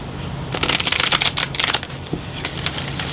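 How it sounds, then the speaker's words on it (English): Oracle cards are shuffled by hand in a quick riffling flutter of rapid papery slaps, close and clear, with a brief lighter burst of shuffling toward the end. "we're going to pull a Celtic spirit guide blessing and a couple of oracle cards"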